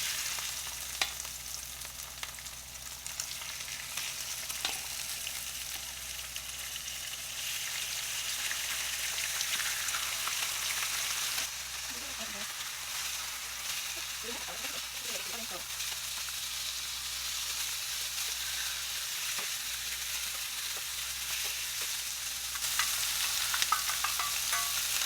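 Fish fillets frying in a pan during meal prep, a soft continuous sizzle and hiss close by that stays steady throughout, with light stirring or shifting noises and no clear talk.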